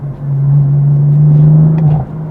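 A 2014 BMW M4 engine pulls hard under acceleration in aggressive drive mode with traction control on, a loud, steady low drone building for about two seconds before easing off.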